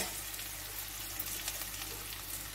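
Bottle gourd pieces go into a pan of half-fried onions, giving a steady, moderate sizzle of frying that continues evenly with no voices.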